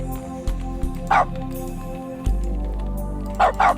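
Dog barking in the video game The Stanley Parable, two short bark bursts about two seconds apart over soft background music and someone talking.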